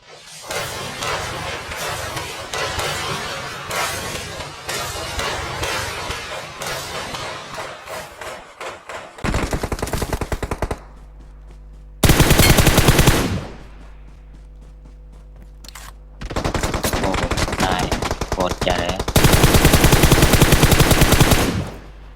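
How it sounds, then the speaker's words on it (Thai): Rapid automatic gunfire from the battle royale game PUBG Mobile, loud, dense bursts over game noise, broken by short silent gaps and a steady low hum, then several more sustained volleys near the end. "ยิงอยู่คนเดียว"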